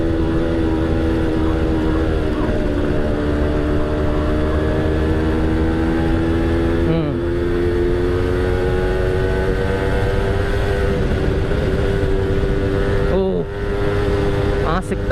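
A Yamaha F1ZR two-stroke motorcycle engine runs loudly and continuously, its pitch climbing gradually with two brief dips as it revs, with speech faintly underneath.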